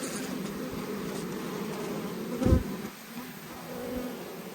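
Italian honey bees buzzing at an open hive during an inspection, a dense continuous hum of many bees close by with a brief louder thump partway through.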